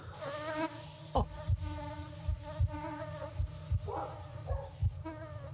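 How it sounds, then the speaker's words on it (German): A heartbeat in the horror video game Rotten Flesh plays as a series of dull, low thumps at an uneven slow pace beneath a constant buzzing, insect-like drone, with no voices. "Warum höre ich meinen Herzschlag?"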